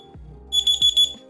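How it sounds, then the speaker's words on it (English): An alarm goes off with a rapid series of loud, high-pitched electronic beeps, heard up close over a low background hum with no talking. "it's my alarm."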